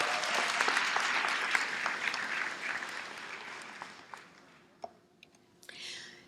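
A high school graduation audience applauds scholarship recipients, dense clapping that starts loud, thins out and fades to a few scattered claps, with faint murmuring at the end.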